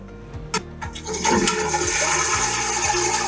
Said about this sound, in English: toilet flush.